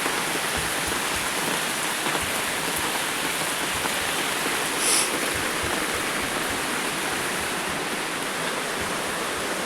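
Heavy rain pours down steadily as a dense, continuous wash close by, with runoff water flowing along a road; no voices, just an even hiss throughout.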